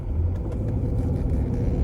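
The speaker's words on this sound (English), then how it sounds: "I am just going to accelerate and hopefully you'll hear the engine" A supercharged V8 engine in a Range Rover L322 rumbles deep and loud as it accelerates, the drone steady and close throughout the short stretch.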